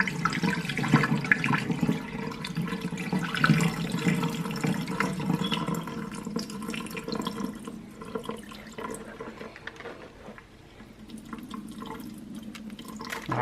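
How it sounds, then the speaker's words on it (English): Rice pre-wash water being poured off, a steady close splashing and trickling stream of liquid running continuously, tapering toward the end with a few drips. "I'm going to pour off this water"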